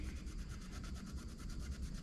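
A razor blade scraping old gasket residue from the deck surface of a 5.3L engine block, a continuous close, rough rubbing and rasping with a steady back-and-forth pulse.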